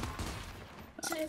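Gunfire from the video game Gears 5 during a ranked Control match: a brief, loud clatter of shots over a dense battle backdrop, with a voice faintly present.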